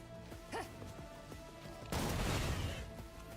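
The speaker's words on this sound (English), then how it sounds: "Lob a grenade." An explosive blast bursts in after a short lull, a grenade lobbed in Rogue Trader, the Warhammer 40,000 video game, giving a loud, broad crash that lingers as rumbling debris over faint game ambience.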